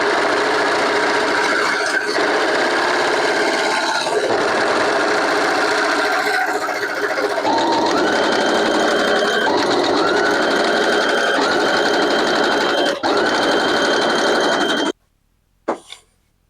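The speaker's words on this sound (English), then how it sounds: "So I just have to serge this edge, and I'm just going to fold it in one time and just stitch it down." A serger sewing machine stitching along a fabric edge while altering office clothes runs in a fast, loud mechanical whir with brief pauses and changes in speed, then stops abruptly near the end.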